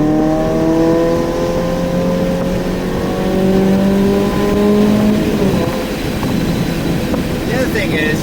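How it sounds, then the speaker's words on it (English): A Toyota GR86 engine revs with a loud, tonal exhaust note that drops in pitch as it downshifts, followed by a rougher burst that may be the crackles and pops, close and dominant throughout. "Especially when I downshift, you hear the crackles and pops"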